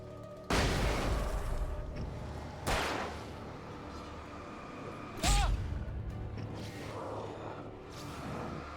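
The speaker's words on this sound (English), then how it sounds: "Throw a flashbang." A flashbang grenade goes off in a video game, among several sudden booming blasts with whooshing tails spaced a few seconds apart and a quieter rumbling background between them.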